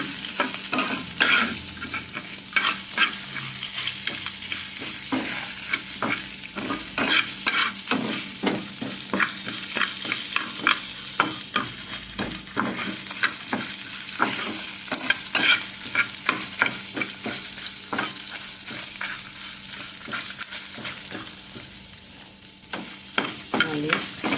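Spices and grated coconut frying in a pan, a continuous sizzle broken by rapid scraping strokes of stirring that carry on steadily throughout, close up with no talking.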